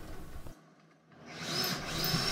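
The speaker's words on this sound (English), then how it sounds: "Here I'm drilling holes in the sides for barrel or dowel nuts to secure the top" Power drill boring holes into the sides of a wooden CNC controller enclosure for barrel nuts, a close, steady whirring that cuts out briefly and then spins up again, with no talking.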